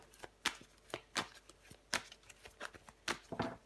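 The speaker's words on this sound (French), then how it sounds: "On va recouvrir des cartes." Tarot cards are turned over and handled during a reading, making a series of crisp, papery snaps and flicks at an uneven pace, close and clear in a quiet room.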